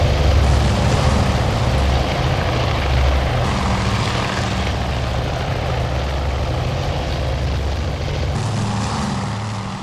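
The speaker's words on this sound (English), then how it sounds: "That's torpedo bombers." Propeller engines of torpedo bombers in the carrier warfare game Task Force Admiral, a loud, continuous low droning roar with a steady throbbing hum and no talking over it.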